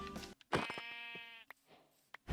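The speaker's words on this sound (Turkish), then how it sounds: "Hayatımda ilk defa pembe bir koyun spawn'u görüyorum." A pink sheep in Minecraft bleats in a long wavering tonal call, followed by short clicks and thuds of gameplay, with nobody talking.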